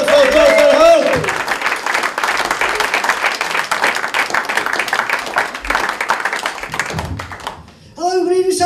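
A live comedy audience bursts into sustained clapping with whoops and cheers, loud and continuous for several seconds, fading briefly before a voice speaks over it at the end.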